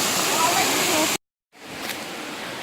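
Steady broadband rush of a waterfall, loud and close, cut by a brief silent gap before the roar returns slightly softer.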